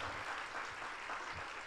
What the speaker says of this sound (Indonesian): Ayo yang setuju berikan tepuk tangan yang meriah buat Tuhan.